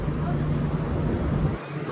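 Strong wind buffets the microphone on the open deck of a Starlite ferry travelling from Caticlan to Batangas, with a steady low engine hum under it, loud and continuous, easing slightly near the end.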